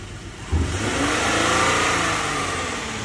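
Ford Edge at a police vehicle auction, engine running after a jump start as it is driven forward and backward: a steady mid-pitched engine drone that swells with a rev about half a second in, then holds fairly loud.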